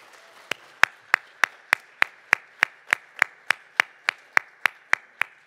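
An audience at a Rotary district conference in a Grand Hyatt hall claps in unison. Crisp, evenly spaced claps come about three per second, roughly seventeen in a row, each sharp and distinct against a quiet room.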